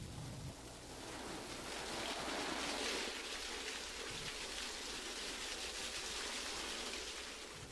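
Water pours steadily from a laboratory safety shower, a continuous loud hiss with no break.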